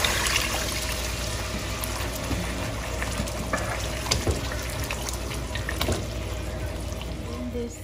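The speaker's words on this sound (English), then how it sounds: "At this time, add 1 cup of water." A cup of water poured into simmering nargisi kofta curry, where the oil has separated, gives a steady splashing, hissing sizzle that runs for several seconds at moderate level.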